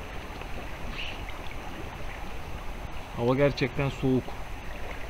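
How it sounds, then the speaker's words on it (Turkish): A stream flows on both sides of a riverside fishing camp, giving a steady, broad rushing hiss throughout, while someone speaks briefly over it near the end. "İki tarafımdan dere akıyor."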